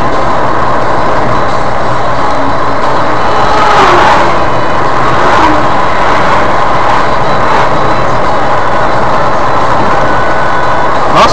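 A truck rolling past on a muddy road near Teófilo Otoni, Brazil, its engine and tyres making a loud, steady rumble with swells of broadband road noise as it passes close by.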